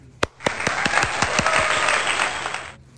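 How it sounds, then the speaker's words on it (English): A round of applause from a small group, a few sharp separate claps that build into a dense patter of hands, then stop abruptly near the end. "Let's get a round of applause."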